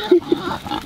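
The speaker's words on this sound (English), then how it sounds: "Vicious guard pigs." Pigs kept as guard animals give a couple of short, quick grunts up close, followed by softer snuffling and rustling.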